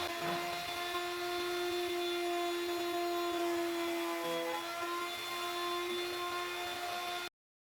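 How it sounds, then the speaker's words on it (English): Steady mechanical whir of a power sander on wood for Shaker cabinet doors, running continuously, a constant buzzing drone with faint tonal hum throughout, close and fairly loud, no talk. "Then it comes to everybody's favorite part of sanding."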